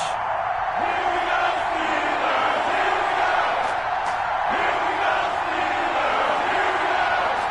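A stadium crowd roars and cheers continuously ahead of a Bengals versus Steelers matchup in an EA Sports football video game, a steady wash of noise with occasional swells and whoops.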